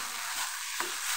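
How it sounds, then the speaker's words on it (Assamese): Boiled potatoes, large ones cooked alongside rice and then halved, frying in a pan with oil, giving a steady broadband sizzle with one brief scrape of a spatula partway through. "এতিয়া এইখিনি অকণমান সময় ভাজি লওঁ।"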